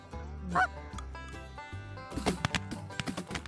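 Several geese honk in short bursts over a harvested cornfield on a foggy morning in Sunflower County, Mississippi, during a goose hunt, some louder and nearer, others overlapping in a loose, scattered chorus.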